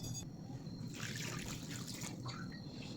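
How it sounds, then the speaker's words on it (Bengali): Water is poured into a curry pot of mixed fish with beans and radish, giving a steady trickling splash for a few seconds. No one speaks. "এবার পরিমাণ মতো যতটুকু জোল লাগবে ততটুকু জোল দিলাম।"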